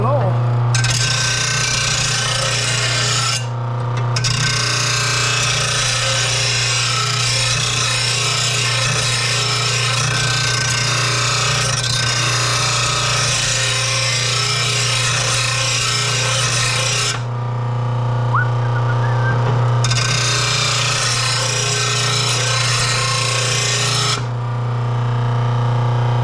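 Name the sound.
sharpening a Honda push mower blade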